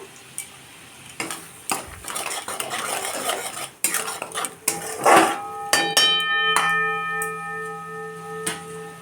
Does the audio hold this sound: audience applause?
no